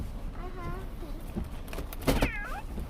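A cat meows a few times in short rising and falling calls, close by, with some background noise and a louder burst near the end.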